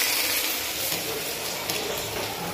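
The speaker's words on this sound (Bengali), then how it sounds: "এই দেখো তেল দিয়ে দিয়েছি, এই যে পেঁয়াজ কুটেছে, লঙ্কা পেঁয়াজ" Chopped onions and chili fry in hot oil, giving a steady, soft broadband sizzle that holds evenly throughout without clear breaks.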